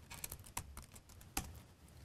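Keys tap on a computer keyboard while a password is typed during a Linux setup of SQL Server. The soft, uneven clicks are close but quiet, with a few sharper strokes standing out.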